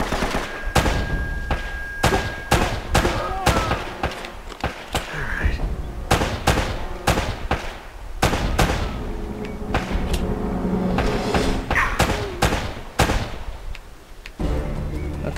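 Rapid gunfire from the video game Uncharted: Drake's Fortune, dense bursts of loud sharp shots repeating in quick succession throughout, with someone talking over parts of it.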